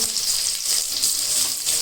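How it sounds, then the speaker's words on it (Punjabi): Cumin seeds sizzle in hot mustard oil for a bitter gourd sabzi, giving a steady, crackling fry. The hiss is close and loud throughout, with no talk. "ਇੱਕ ਚਮਚਾ ਵੱਡਾ ਚਮਚਾ ਮੈਂ ਤੇਲ ਦਾ ਸਰੋਂ ਤੇਲ ਦਾ ਪਾ ਲਿਆ ਸੀ ਤੇ ਜੀਰਾ ਤੜਕੇਗਾ"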